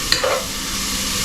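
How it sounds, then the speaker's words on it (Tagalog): Onions frying in a pan as they turn lightly brown, a steady broadband sizzle close by with a couple of faint utensil scrapes, no talking. "Hintay lang natin ito na mag-kunting brown ng kunti ang sibuyas"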